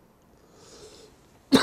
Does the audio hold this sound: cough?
yes